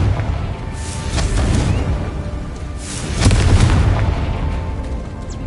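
A Confringo blasting spell detonates in Hogwarts Legacy with deep, rumbling booms, two heavy swells of explosive noise a couple of seconds apart, loud and close.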